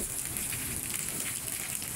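Midday rain in Pabna, Bangladesh, falls in a dense, steady hiss and patter on surfaces, continuous and even throughout.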